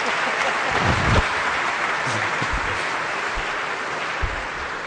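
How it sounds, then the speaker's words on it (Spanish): Dense crowd applause at a political speech in Peru, a sustained, even roar of clapping with brief louder swells near the start and end. "aplaudan pues, si no, ¿cómo?"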